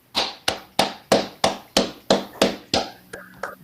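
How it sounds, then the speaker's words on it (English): Steady, evenly spaced hand claps, about three per second, ring out crisp and close for a weekly winner at a live podcast show, then thin to a couple of softer claps at the end. "a round of applause, everybody"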